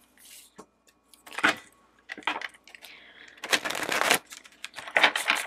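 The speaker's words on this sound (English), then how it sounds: "I'm gonna shuffle." Tarot cards are shuffled by hand in quick, uneven bursts of riffling and slapping, close and crisp, with short pauses between handfuls and no talking.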